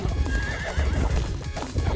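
A horse in the Knight Squad video game whinnies loudly over the clip-clop of galloping hooves, close and busy with steady low-end rumble beneath.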